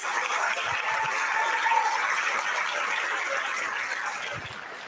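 High school assembly audience applauding a guest speaker, a broad, steady wash of clapping from a large crowd, somewhat distant and even throughout.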